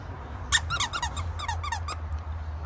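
A dog's squeaky pet toy squeaks in a quick run of sharp, high chirps, several in fast succession and then a few more, close and clear over a low steady background hum.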